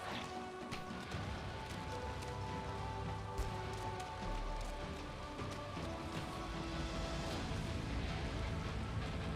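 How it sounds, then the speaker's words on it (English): Rain falls in the video game Valheim, a steady pattering wash with scattered drop hits and faint tonal game sounds underneath, continuous and fairly quiet throughout. "I just realized that the rain has changed to all be green"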